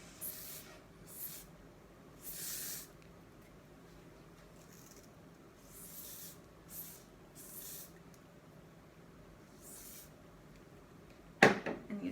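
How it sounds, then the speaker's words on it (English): Hair spray from an aerosol can hisses onto styled beach-wave hair in a series of short bursts, each a second or less, fairly close, with quiet pauses and a brief rustle near the end. "and you put some spray."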